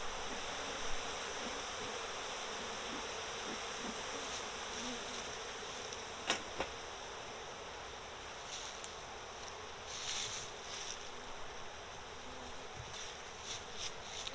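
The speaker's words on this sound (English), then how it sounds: "We got some angry bees here." Agitated honeybees swarm around a hive in a steady, close buzzing drone that fills the whole stretch at moderate volume, with a few faint clicks and taps scattered through.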